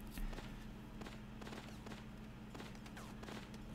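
Gunfire in the mobile shooter Space Marshals 2, a run of rapid muffled shots and impacts over a dense, steady game soundscape, moderately loud.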